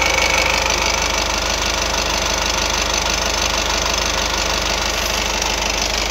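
A 2014 Honda City VX car engine idling, a steady, close, loud mechanical hum with a fine rapid ticking rhythm that holds unchanged throughout, with no voices.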